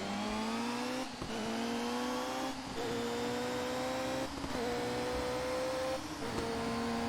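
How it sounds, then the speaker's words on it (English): Caterham race cars at Oulton Park in the ToCA Race Driver 3 video game drone steadily as engines rise in pitch through the gears, with periodic brief dips and pops at each shift, fairly quiet and without talk. "Everyone's exhaust is popping like crazy."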